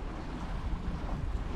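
A sailboat on a beam reach in about seven knots of wind, making five knots over ground, sounds like a steady low rush of water and wind buffeting the microphone, fairly faint and continuous with no voices.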